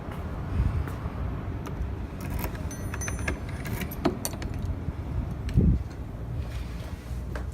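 Keys jangle in a bunch while a door is being unlocked outdoors, with steady wind and passing traffic behind; several metallic clinks and one louder rattle near the end, no talking.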